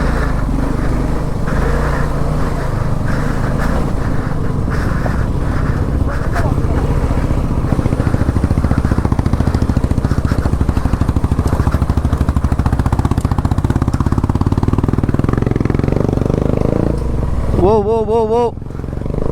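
A Suzuki V-Strom SX 250 motorcycle engine drones steadily and loudly at close range, its throttle held through an off-road ride with a water crossing, with wind and rumble throughout and a voice breaking in near the end.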